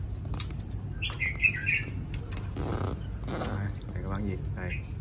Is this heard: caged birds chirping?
yes